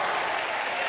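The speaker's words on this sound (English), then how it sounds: "You see Martin County fans applaud the defensive effort" Basketball fans in a gym at a boys' regional tournament game applaud, a dense, steady wash of clapping from the crowd with some voices mixed in.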